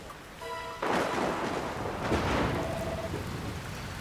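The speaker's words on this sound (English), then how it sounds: "Where did this rain come from?" Rain and a rumbling thunderclap in the Dragon Quest Builders 2 video game. A brief chime comes first, then a burst of thunder that rolls on under dense, steady rainfall, loud and close.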